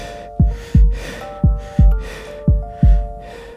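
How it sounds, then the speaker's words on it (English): Heavy, rhythmic breathing up close, six sharp gasping inhales in pairs with a low thudding pulse, over a faint steady hum. "Someone was breathing beneath me."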